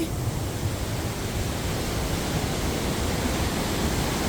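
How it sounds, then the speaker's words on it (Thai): A waterfall in a rocky gorge pours with a dense, constant roar of rushing water, loud and unbroken throughout. "น้ำตกก็"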